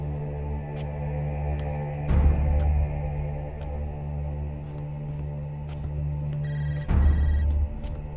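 A telephone rings twice in a quiet interior, two short bursts of ringing separated by a few seconds over a steady low hum, with no talking.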